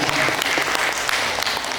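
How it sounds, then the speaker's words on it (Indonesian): Audience applause at a theater acting workshop, a dense, steady burst of clapping from a crowd that fills the whole moment. "Tepuk tangan."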